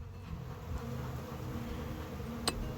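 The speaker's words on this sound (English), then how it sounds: "bees are already bringing pollen back to the hive from somewhere" Honey bees buzz steadily around a beehive in early April, a soft continuous drone with one brief sharp click near the end and no voices.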